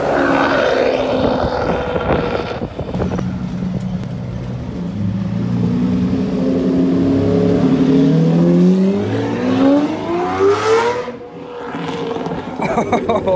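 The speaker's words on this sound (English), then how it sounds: "Oh, another Murcielago has just pulled up." A manual, straight-piped Lamborghini Murcielago sports car pulls up nearby at a registration day, its engine loud and throaty, revving and rising in pitch before easing off, with a voice faintly in the mix.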